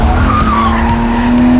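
A BMW M3 Competition drifts with loud, continuous tire squeal sliding across the pavement, a sustained screech with rising engine tone close by, no voices.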